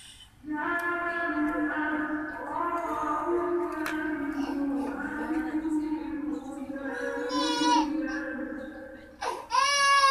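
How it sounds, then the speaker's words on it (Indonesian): A baby cries in the background during a car alternator brush repair, with long wailing sobs that rise and fall continuously before a sharper cry near the end. "Sorry, ada suara tangis bayi."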